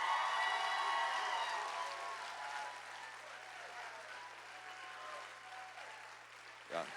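A commencement audience applauds to honor the graduates, sustained clapping that starts full and gradually thins and fades, with a brief louder clap near the end.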